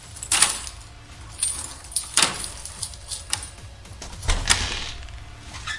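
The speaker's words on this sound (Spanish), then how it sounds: "el sonido de unas llaves rompió el silencio de la noche." Keys jangle in short bursts of bright metallic clinking at night, several separate shakes spread across the stretch, fairly close and alone with no voices.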